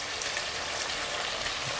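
Onion stewing in oil in a pot, a soft steady hiss and fine crackle, faint and continuous with no talking.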